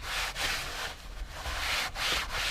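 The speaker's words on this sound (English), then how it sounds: "Get a rag and clean up this mess." A rag rubs dirt and grime off a lawnmower in a series of close, scratchy wiping strokes, with brief pauses between passes.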